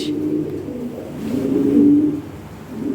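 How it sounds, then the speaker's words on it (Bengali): Close by, European-bloodline pigeons coo in soft, low, throaty rolls that rise and fall, with faint background noise and no speech. "অরিজিনাল ইউরোপিয়ান ব্লাড লাইনের কবুতর"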